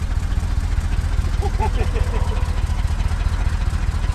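A classic Lincoln Continental engine runs at a steady idle through mufflers, a close low rhythmic rumble with a faint brief tonal chirp partway through.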